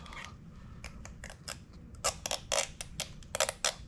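A lens protector being peeled off an Oculus Quest 2 VR headset, giving a run of short crackling, crinkling bursts that grow louder and denser toward the end, close up and quiet.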